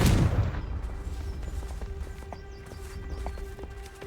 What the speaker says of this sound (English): A centaur. Tread carefully.